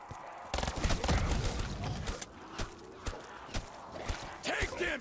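Bursts of RK5 pistol fire in Black Ops 3 Zombies crack out in quick clusters over a noisy game backdrop, followed by scattered single shots and a brief voiced exclamation near the end.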